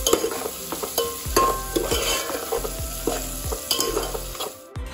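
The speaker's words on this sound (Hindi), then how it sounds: "अब इसको अच्छे से मिक्स करेंगे चलाकर।" A spoon stirs a salted atta thukpa mixture in a pot. Steady scraping strokes repeat close up over a soft sizzle, with no talking.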